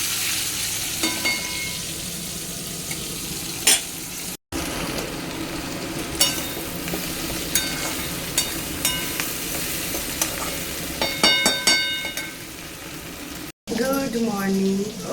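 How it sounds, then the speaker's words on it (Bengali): Potatoes frying in a pan on a home kitchen stove, a continuous sizzle with clinks and stirring scrapes, broken by two short cuts; a voice talks briefly near the end. "যাবো আলুটা ভেজে দিয়ে যাবো"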